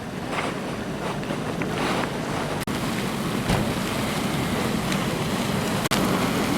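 A geyser erupting and throwing water at the El Tatio geothermal field in Chile: steady, broad rushing roar of churning water and wind, continuous and loud throughout, with a couple of brief dropouts; no voices.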